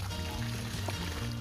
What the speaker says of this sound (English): the water dropping from the coconut tree